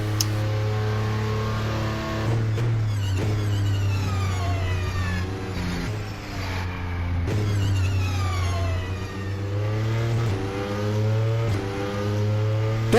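An Audi R18 Le Mans prototype race car at speed on a practice lap, its engine note loud and continuous, climbing and falling steadily through repeated upshifts and downshifts with no pauses.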